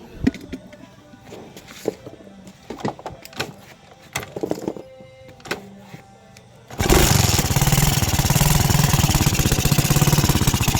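A Suzuki Smash 115 motorcycle with an electrical fault making its engine sputter; uneven popping and clicks give way abruptly to a loud, steady running engine, close by.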